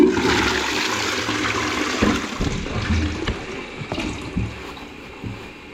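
A toilet in a newly fitted shower room flushes with a loud, continuous rush of water that gurgles and trickles as the cistern refills; the flush pipe is leaking slightly.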